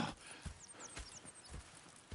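Horses in Red Dead Redemption 2 clip-clopping at a steady walking pace, faint and even, with no voices over the hoofbeats.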